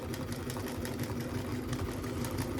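A Bernina 930 Record sewing machine runs a back stitch, a faint, steady mechanical hum with a rapid even chatter that continues without a break.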